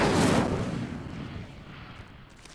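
A fire spell cast in Hogwarts Legacy bursts out as a loud, roaring whoosh that swells at once and then slowly fades over a couple of seconds, with no talking.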